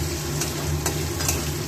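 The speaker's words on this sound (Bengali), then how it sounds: "আলুটা লাল লাল করে ভাজা হয়ে গেছে, এবার এর মধ্যে দিয়ে দেবো পেঁয়াজ।" Potatoes fried until reddish-brown in a pan, with onion added, give a steady close sizzle and occasional stirring scrapes throughout, with no talking.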